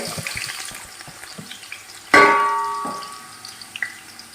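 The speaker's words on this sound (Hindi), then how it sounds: "मीडियम साइज़ की 2 से 3 प्याज मैंने ले ली हैं और इनको मैं कर रही हूँ फ्राई" Medium-sized onions, two or three of them, dropped into hot oil, setting off a sudden loud sizzle that fades slowly, after quiet clinks and stirring in a kitchen.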